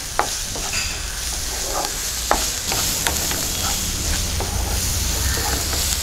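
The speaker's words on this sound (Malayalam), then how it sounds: "ക്യാരറ്റ് ഇട്ട് കൊടുക്കാം. ആ സമയത്ത് തന്നെ ക്യാപ്സിക്കം ഇട്ട് കൊടുക്കാം. ഇതും ജസ്റ്റ് ഒന്ന് വഴറ്റിയെടുക്കാം." Carrot and capsicum sauté in a hot pan for macaroni, giving a steady close sizzle with occasional stirring scrapes and taps throughout, and no voices.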